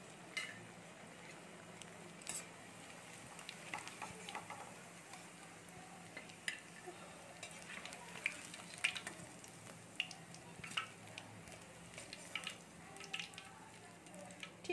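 Soybean pakoras frying in oil until brown produce a faint, continuous sizzle with scattered small pops and ticks, quiet and steady throughout.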